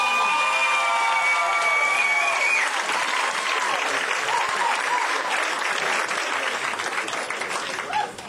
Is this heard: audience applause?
yes